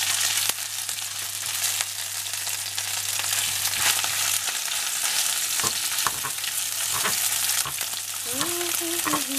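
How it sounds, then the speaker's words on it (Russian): Food sizzles and crackles loudly in a hot pan while being stirred and tossed quickly, a dense continuous frying hiss with scraping clicks near the end. "И вот так быстро-быстро ее обжариваем."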